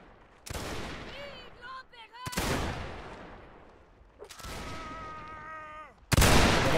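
Musket volleys crack out in a linebattle video game, several sharp broadband bursts separated by gaps, with one loud close blast at the end, while voices talk in between.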